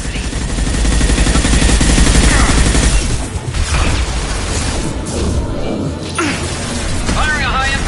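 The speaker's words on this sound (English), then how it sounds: "Firing a high-impact shot!" Gunfire and combat in the video game Mass Effect 2 on PS5: loud, dense bursts of shots and booms over a continuous rumbling mix, with a voice speaking over the action.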